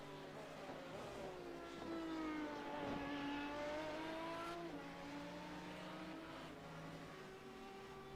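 Race cars in a Legacy Sports Car Series round at Road America, engines howling steadily as they pass and accelerate, pitch rising and shifting through gears, loud and continuous throughout with no talk.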